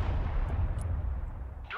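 Artillery fire in the Broken Arrow war game: a continuous, heavy low rumble of distant shelling fills the whole stretch, loud and steady with no voices over it.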